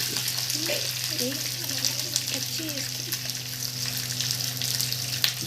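Garlic and other ingredients frying in oil give a steady close sizzle with light stirring, while a voice speaks faintly over it.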